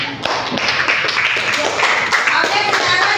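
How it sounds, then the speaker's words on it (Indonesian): A classroom of primary-school children clapping hands, brisk, uneven and fairly close, with voices chattering among the claps throughout. "beri tepuk tangan dulu"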